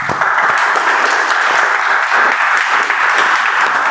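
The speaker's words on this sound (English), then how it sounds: "I think that deserves a round of applause again." A room of meeting attendees gives a round of applause, steady and fairly loud group clapping throughout without a break.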